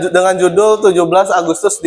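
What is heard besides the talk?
No everyday noises stand out.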